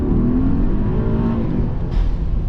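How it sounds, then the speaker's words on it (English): A 2023 Mercedes-Maybach GLS 900 Brabus Rocket, a heavy luxury SUV with extra Brabus turbochargers, accelerating hard: a loud, steady engine roar with a rising whine running through it and no talk. "Brabus boost and the Brabus additional turbochargers. You can instantly hear them and you can feel them."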